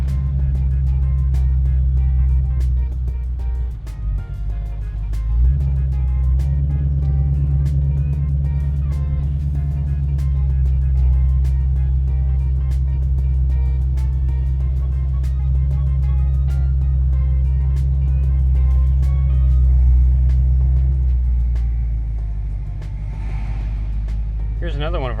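A 2022 Ford Mustang Shelby GT500 Carbon Edition rolls through a curve with a loud, steady low engine drone throughout, holding a constant rumble with small shifts in pitch and no speech over it.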